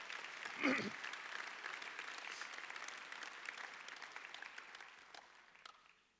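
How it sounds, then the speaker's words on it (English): A church congregation breaks into a round of applause, steady broadband clapping that swells quickly and holds for several seconds at a moderate distance before tapering off near the end. "I wonder if you could give yourselves a massive round of applause"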